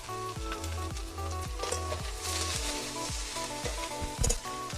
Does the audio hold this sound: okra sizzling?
yes